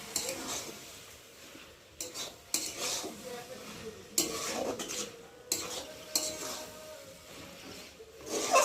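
Banana flower curry stirred in a pan, with repeated bursts of scraping and clattering from a utensil against metal over a quiet sizzle, strokes arriving every second or two, no talk.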